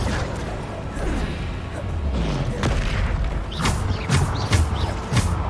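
Bombarda explosion spells go off in Hogwarts Legacy, a string of booming blasts and crashing impacts amid creaking and thudding combat effects, several sharp hits clustered toward the end.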